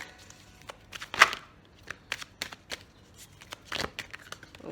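Playing cards riffled and shuffled during a tarot-style reading, a few crisp bursts of shuffling with cards spilling out of the deck, fairly quiet and close, with scattered light handling noises between.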